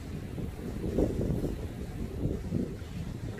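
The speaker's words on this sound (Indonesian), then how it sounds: "Angin kuat hari ini." Strong wind buffets a boat out on the water near a rocky island, a broad, gusting roar that swells and fades over the low wash of waves, with no talk.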